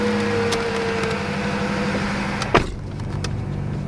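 A BMW F90 M5 runs with a steady, even engine drone, broken near the end by a single sharp knock before the sound settles slightly quieter.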